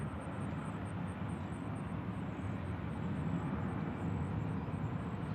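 A jet airliner takes off at Nashville International Airport, giving a steady, loud roar of engine noise with a high whine on top that carries through the whole stretch without letting up.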